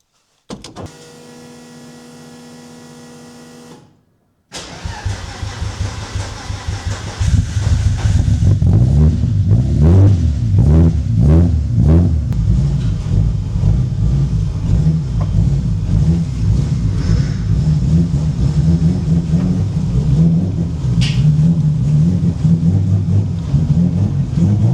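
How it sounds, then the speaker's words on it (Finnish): A Volvo T6 engine cranks and fires up after a brief whirring start, then settles into a loud, steady idle and rumble as the car is driven outside, with no talk over it. "Päräytetään käyntiin"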